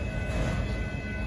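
Northbound Union Pacific auto train passing at a road crossing in Austin, Texas, with a CSX locomotive, a loud continuous low rumble and rolling rail noise, close by and steady throughout the short stretch.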